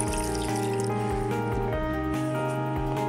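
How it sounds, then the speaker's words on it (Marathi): A full glass of water is poured into a small pressure cooker for jackfruit vegetable, a brief trickling splash heard over steady tonal background music. "1 ग्लास पूर्ण मी पाणी ओतते आतमध्ये।"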